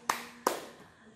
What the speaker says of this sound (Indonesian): Tepuk tangan buat Tuhan Yesus yang dahsyat.